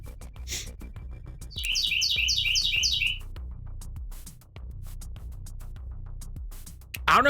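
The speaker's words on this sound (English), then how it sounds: "The birds part of the show now." Loud bird chirps in the PC game Directive 8020, a rapid chattering run of tweets rising over a low droning ambience, with a few scattered earlier calls.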